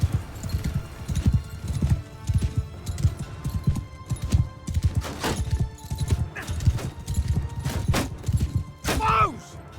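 Cavalry horses gallop in the Mount & Blade 2: Bannerlord video game, with close, rapid clip-clopping hooves, a horse whinnying near the end and scattered thuds of battle.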